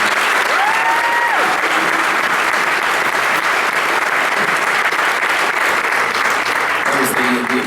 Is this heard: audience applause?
yes